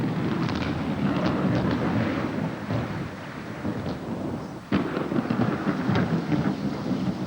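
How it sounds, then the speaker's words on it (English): Heavy rain pours steadily with low rumbling thunder rolling underneath, dense and loud throughout, as a storm breaks over meerkat country. "Only when the rain begins in earnest does Nkosi head for the shelter of the burro"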